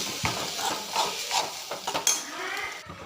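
Fish curry base with chili powder being sautéed, short bursts of stirring and scraping with soft sizzle and light utensil knocks against the pan, close and brief.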